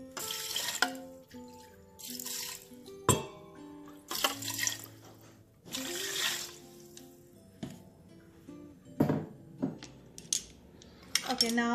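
Water runs from a tap into a metal Instant Pot inner pot holding basmati rice, amid clinking of utensils and dishes, with intermittent splashes and clanks close by.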